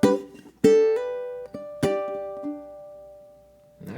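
Ukulele finger-picks a measure of a song, a few plucked notes and chords ringing out close and clear, decaying between attacks, with no talking.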